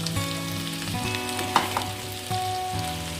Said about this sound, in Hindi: ऑयल हमारा गरम हो गया। अब हम इसमें डालेंगे अदरक।